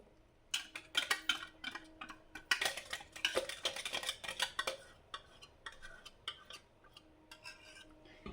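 A spoon scrapes and clinks against a mixer jar and bowl as a blended gulab jamun cake mixture is scooped out. The sound is a quick series of sharp metallic taps and scrapes, close and fairly quiet, with no talking.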